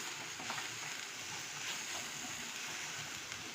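Chopped tomato, green chili and onion being stirred into makhana chaat in a pan, a soft continuous scraping and sizzling texture, faint and steady throughout.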